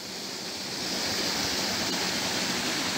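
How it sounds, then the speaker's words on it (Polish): Waterfall rushing in a steady, dense roar close by, a continuous broadband wash that swells slightly in the first second and then holds loud and even, with no voices. "No i gdzie jest ten wodospad?"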